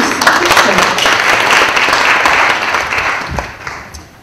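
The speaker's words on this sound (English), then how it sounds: "Yeah, she's worth an applaud." An audience at a talk on job creation to fight poverty applauds a woman from Rustenburg who built a business, producing loud, dense clapping that swells and then tapers off over about four seconds.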